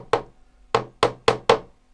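Hammer knocks a 40mm panel pin through a sash cord into a wooden sash window box frame: five sharp, close wooden taps, one then a pause, followed by four in quick even succession, with no talk.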